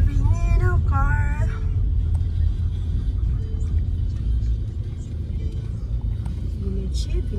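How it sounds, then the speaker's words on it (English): A car drives along a seafront road at night in the rain, with a steady low interior road rumble throughout and voices chatting over it inside the cabin. "We love driving in our car."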